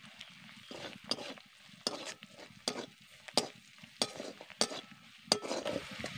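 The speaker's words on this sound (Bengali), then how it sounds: "এবার ভালো করে সব কিছুকে মিশিয়ে নেব।" Turmeric, chilli powder and salt being mixed in a pan for aloo dum, with repeated sharp scrapes and taps of a utensil against the pan over a soft sizzle, close and fairly regular.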